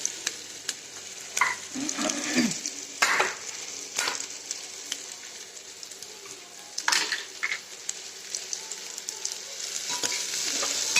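Onion frying in a pan for a spiced rice khichdi, with steady sizzle and bursts of scraping as the spoon stirs it, close and fairly loud, no talk.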